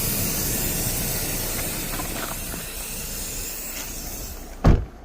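K2 Klima Fresh aerosol air conditioner cleaner sprays inside a car with a steady, close hiss that runs nearly the whole time and ends in a short thump.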